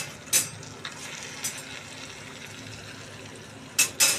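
Steamed rice being stirred into cabbage frying in a pan, with a soft steady sizzle underneath and a few sharp scraping clinks of the spoon near the start, middle and end, close and fairly quiet.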